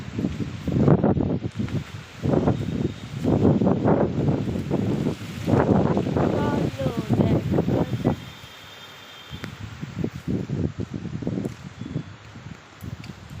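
Strong evening storm wind gusting hard against the microphone in loud rumbling bursts, easing to a quieter lull partway through before picking up again, with rustling in the background.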